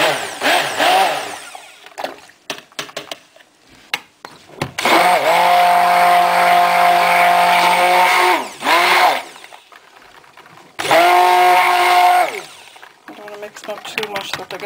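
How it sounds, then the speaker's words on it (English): An electric stick blender mixing cashmere pure silk soap batter, loud whirring motor bursts of several seconds each, stopping and restarting, with a person speaking between the runs. "I'm going to mix these up really quickly."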